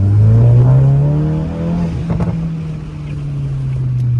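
Exhaust drone from a VW MK8 GTI while driving with the windows down and sunroof open, a steady low engine tone that swells and eases with throttle over rushing road and wind noise, heard from inside the car.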